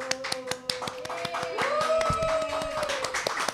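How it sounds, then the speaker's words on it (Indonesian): An audience claps for contest winners in a brisk, scattered patter of hands that runs under sustained musical tones at a music event. "Tepuk tangan dong."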